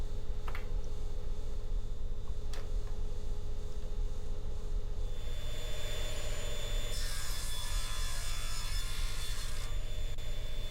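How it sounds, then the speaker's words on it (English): A table saw cuts 45-degree miters on wooden boards, with a steady motor hum through the clip and a brighter, harsher burst of blade cutting through wood in the middle stretch. "I'm going to cut the right hand miter on all 4 boards."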